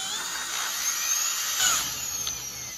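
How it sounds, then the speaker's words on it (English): A power drill whines steadily at high pitch while boring a hole into a ceiling, a cup fitted on the bit, the tone swelling slightly as it bites, with no talk. "I'm gonna test this life hack that I found of putting the bottom of a cup on the drill."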